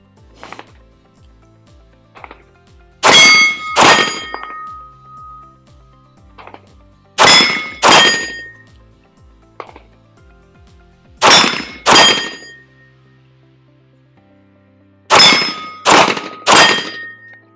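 Pistol shots hitting steel targets in a competition shooting transition drill: four loud bursts of two or three rapid shots each, every hit followed by a ringing metallic clang, with quiet pauses between bursts.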